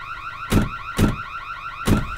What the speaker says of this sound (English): Guys, the alarms are going off.